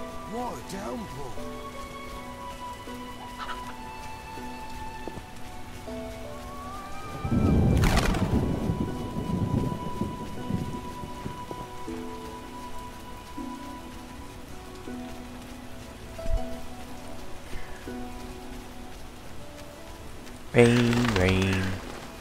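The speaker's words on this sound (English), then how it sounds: "What a downpour." Heavy rain in The Witcher video game pours steadily on surfaces, with a deep rumble partway through and soft tonal music playing underneath.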